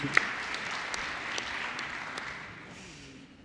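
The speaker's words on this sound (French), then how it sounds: "On peut aussi l'applaudir." Members of a council assembly applaud a newly appointed member, a broad, steady patter of many hands at moderate volume that slowly thins and fades toward the end.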